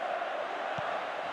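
Stadium crowd noise from the football video game Pro Evolution Soccer 2019, a steady broad roar of cheering fans that holds level throughout, with a couple of dull low thumps.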